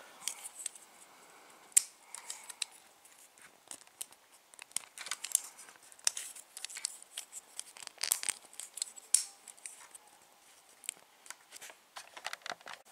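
Scissors snip repeatedly at close range, quiet crisp cuts mixed with crinkling and rustling while a spinning-top launcher part is trimmed, continuing irregularly for about thirteen seconds.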